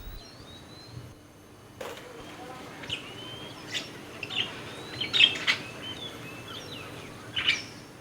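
Birds chirp and tweet in short, scattered bursts over a quiet outdoor background, with several brighter calls clustering toward the end.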